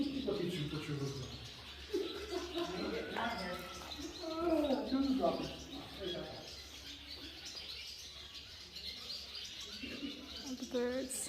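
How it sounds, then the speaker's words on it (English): Swallows chirp and twitter inside a stone building at a historic fortress, with bird calls mixed under close conversational voices and footsteps throughout. "That's the swallows."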